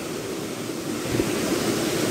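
A river rushing steadily on a hillside outing, a broad continuous wash of water that stays loud and close throughout, with no voices over it.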